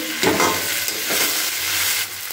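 Egg ruti chowmein being stirred in a hot pan, with a steady sizzle and soft scraping as the noodles, bread and egg are turned over. No one talks.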